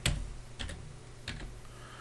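A few quick keystrokes on a computer keyboard while a search term is typed into an effects panel in video-editing software, clicking in small clustered bursts over a low steady hum.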